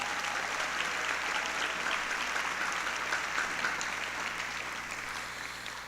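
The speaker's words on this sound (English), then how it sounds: "Let's give one last round of applause for all 12." An audience claps steadily and loudly for twelve class night nominees at a high school ceremony, the applause holding dense and even before easing slightly toward the end.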